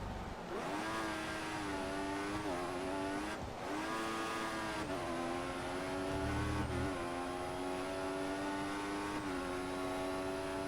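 Formula One race cars scream through gear changes in the F1 2014 video game, the engine pitch repeatedly climbing and dropping with each shift. One loud, close car runs throughout, with no talk.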